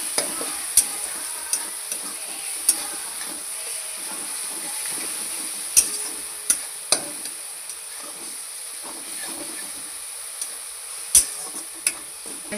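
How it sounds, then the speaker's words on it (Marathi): Ground spice paste (vatan) roasts in a pan while being stirred, giving a soft continuous sizzle broken by sharp scraping clicks of the spoon at irregular intervals, close up and without talk. "हे भाजत आलेलं आहे आपलं वाटण"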